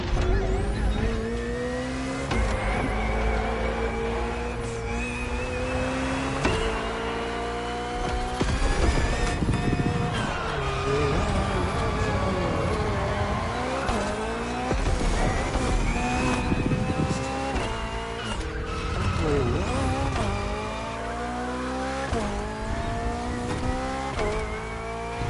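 BMW hybrid V8 race car engine roaring at speed, a loud continuous howl climbing and dropping through gear changes with tire noise and steady, close, sustained intensity throughout.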